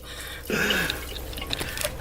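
Water starting to run from a tap at a campsite or van stop: a faint trickle and dripping begins after a half-second of quiet hiss, with small splashes and no talking over it.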